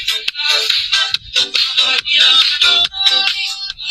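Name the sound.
music playing loudly from Bluetooth sunglasses speaker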